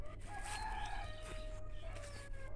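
A rooster crows among clucking hens, with a steady low hum of farmyard background underneath.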